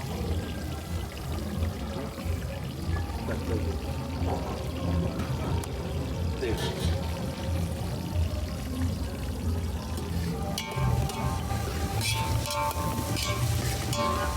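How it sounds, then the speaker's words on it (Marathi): Chopped onion dropped into a hot pan and frying, a steady sizzle and crackle running throughout with occasional clatter. "कांदा मस्त मस्त कांदा टाकत आहे"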